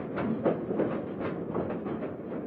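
An electric mine train runs through a deep coal mine tunnel under mountains, on a 6,300-metre ride in a century-old colliery, giving a steady rumbling roll with rhythmic wheel clatter, close and continuous, with no voices.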